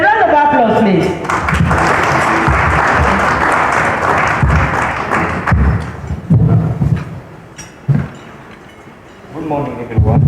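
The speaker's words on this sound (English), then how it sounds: "A round of applause, please." Audience clapping at a high-level dialogue event, a burst of applause in the opening seconds that fades into scattered thumps and room noise, with someone speaking afterward over it.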